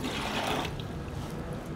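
Water poured into a bucket to mix a 0.5% chlorine solution, a steady close splashing pour that is loudest at the start and then settles into a softer continuous trickle, with no voices.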